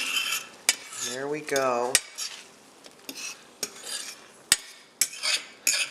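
Scrambled eggs being gently moved around a pan over lowered heat, heard as scattered utensil clicks and scrapes against cookware with brief metallic taps, fairly close, and a voice speaks briefly.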